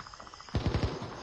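Gunfire in the VR shooter Onward: a short burst of several rapid shots, quiet and distant, preceded by faint rhythmic ticking.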